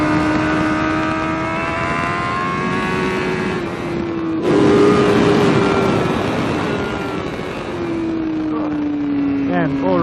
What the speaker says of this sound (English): Man, it's a noisy bike. That exhaust is loud.